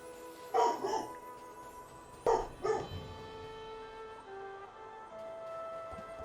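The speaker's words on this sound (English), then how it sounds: "Sorry about the dog." A pet dog in a streamer's room barks in two short bursts of a few barks each, moderately close, with quiet room tone between.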